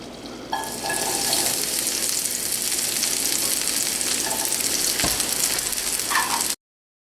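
Garlic frying in olive oil in a pan, a loud, steady sizzle that starts abruptly and crackles close up for several seconds before cutting off.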